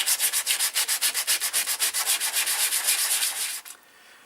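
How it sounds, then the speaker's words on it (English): Hand sanding of filler on Yamaha TDM850 motorcycle plastic panels in a garage, a close, steady run of about twenty rhythmic rasping strokes that stops abruptly near the end, leaving faint room tone. "That's the first sanding down done,"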